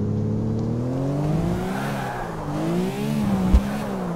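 A Lamborghini in GTA 4 roars at top speed, its engine holding a steady high drone that rises and dips through gear shifts, with a faint tire squeal and a brief thump near the end.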